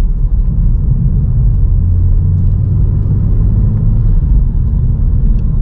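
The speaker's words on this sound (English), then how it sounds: "when you're building boost and you know, you just start to put your foot down, oh my god, it like sucks in the air and it's so loud" Volkswagen Scirocco engine building boost and drawing in air, heard from inside the car as a loud, steady low rumble with a constant whooshing roar.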